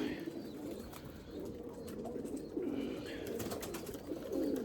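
Erzurum white breeding pigeons cooing in a loft, soft repeated throaty coos rising and falling close by, with light background noise and no talk.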